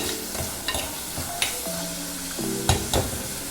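Masala frying in a pan for a Kerala fish curry, a steady close sizzle with the occasional sharp scrape and clink of a spoon stirring it.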